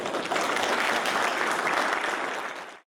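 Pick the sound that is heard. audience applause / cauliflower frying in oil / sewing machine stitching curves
audience applause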